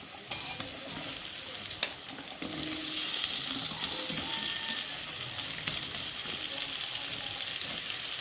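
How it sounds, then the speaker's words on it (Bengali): Cut potatoes fry with onion and garlic in oil, producing a steady close sizzle that grows louder partway through, with scraping and clinking stirring sounds on top. "পেঁয়াজ আর রসুনের সাথে আলুটা একটু লাল লাল করে ভেজে নেব"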